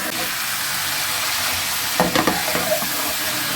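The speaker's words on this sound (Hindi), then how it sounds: "चिकन ऑलमोस्ट फ्राई हो गई।" Chicken fries in a karahi with a loud, steady sizzle and hiss throughout, joined by a few scraping stirs partway through, close up with no talking.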